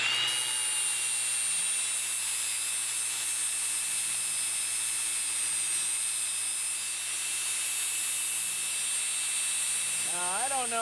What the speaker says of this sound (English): I take my lathe, actually it's just my angle grinder with a flapper valve disc on it